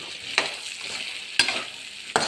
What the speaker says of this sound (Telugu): ఒకసారి బాగా కలుపుకోవాలి కొద్దిగా ముందే వేసి ఉడకబెట్టాం కాబట్టి ఆల్రెడీ శనగలు ఉడికించేటప్పుడు ఇప్పుడు కొద్దిగా సాల్ట్ వేసుకోవాలి